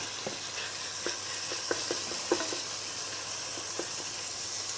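Minced meat fries in a pan, a soft steady sizzle broken by scattered light clicks and stirring taps, close and fairly quiet with no talk.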